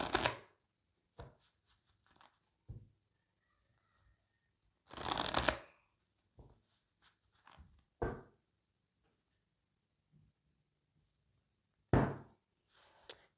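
A deck of tarot cards is shuffled in several quick riffling bursts, the loudest near the start and middle, broken up by softer taps and brief card handling noises in a quiet room.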